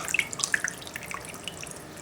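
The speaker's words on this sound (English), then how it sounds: "Just let it drip a little bit." Water drips off freshly rinsed broccoli set on a towel, with bright scattered drops falling irregularly over a quiet background and no speech.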